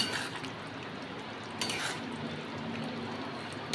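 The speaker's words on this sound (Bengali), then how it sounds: "আর দেবো আমি গরম মশলার গুঁড়ো, দিয়ে ভালো করে নেড়ে ছেড়ে মিশিয়ে নেব।" A potato and pointed gourd curry with prawns and garam masala powder being stirred in a pan, giving a faint low sizzle with a few soft scrapes of the spoon, close and quiet, with no talking.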